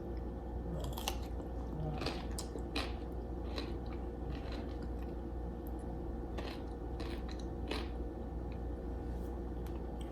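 Crunchy food, a vinegar-flavoured snack, is bitten and chewed close up, giving a series of sharp, brittle crunches over quiet room tone with no talking.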